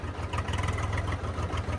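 A Swaraj 744 tractor engine runs with an abnormal sound, a steady close diesel idle with a rhythmic low thumping pulse, loud and continuous with no talking.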